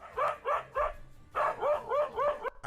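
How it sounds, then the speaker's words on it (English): A dog barking relentlessly at a leopard: two quick runs of sharp, close barks in a steady rhythm, three then four, with a brief gap between them. "Instead of running, the dog barked relentlessly"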